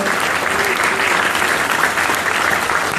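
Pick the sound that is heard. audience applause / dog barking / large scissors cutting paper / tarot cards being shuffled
audience applause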